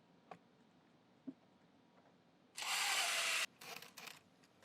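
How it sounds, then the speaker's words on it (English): Screws are driven into a Tennant 2370 floor machine pad holder with a power driver: a few faint clicks, then about a second of loud, steady whirring, followed by short bursts. "And tighten those 3 Phillips head screws back down."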